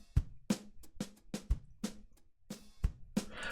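Half-timed, sped-up drum kit with delay, sharp clipped hits in an uneven groove, kicks thumping low under crisp snare and hat transients with quick echoing tails, close and dry-sounding between beats; no talking.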